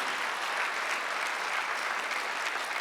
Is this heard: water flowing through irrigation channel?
no